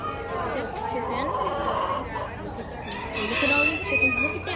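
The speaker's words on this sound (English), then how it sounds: "Look at all these chickens." Chickens cluck and crow loudly at close range in an animal barn at the Ontario County Fair, with crowd chatter around them.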